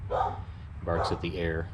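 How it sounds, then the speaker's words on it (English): A dog barks a few times close by while someone talks over it, the yips and barks mixed in with his speech. "Sorry about the dog barking."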